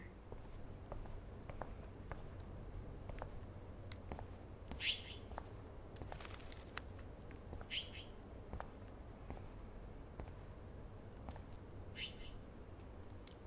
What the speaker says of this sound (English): that poor little bird has been trapped in here